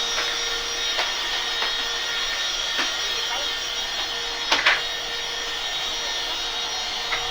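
A vacuum cleaner drones steadily across the floor during household cleaning, a constant high whine with occasional knocks and bumps, and a voice talks over it.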